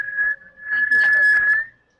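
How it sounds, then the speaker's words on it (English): A person underwater breathing compressed air whistles a thin, steady tone that holds for about two seconds with a brief break, sounding close and fairly loud. "You can whistle a little bit."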